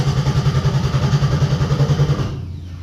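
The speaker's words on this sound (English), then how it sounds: "that starter is kicking over" Starter motor on a 1971 Chevy Camaro cranking the engine in a steady, even rhythmic churn for over two seconds, then cutting off into a quieter hum, fairly close and loud with no talking.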